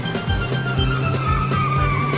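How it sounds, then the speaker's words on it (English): Cartoon cars skidding on an icy, snowy road: repeated tire squeals and slides over a steady engine whine, close and fairly loud, with several skids in quick succession. "The cars are skidding to the sides."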